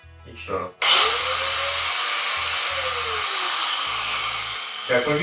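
Loud and close, a Grand MShU-125-1250 angle grinder kicks on after a brief quiet moment with a few soft handling noises, then holds a steady high-pitched whine as it slowly begins to spin down.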